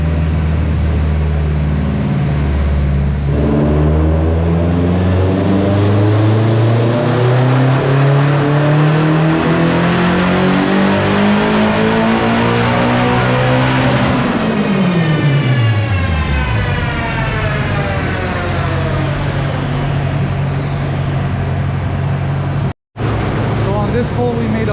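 A turbocharged K24-swapped Honda Civic EG roars through a long, loud wide-open pull on a chassis dyno, engine pitch climbing steadily before dropping off, with a brief cut near the end.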